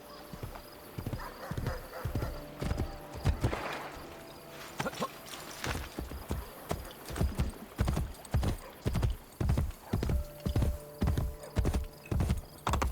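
A horse gallops in the video game Assassin's Creed Brotherhood, loud rhythmic hoofbeat clip-clops in quick repeated bursts, with a brief whinny early on and no talk over it.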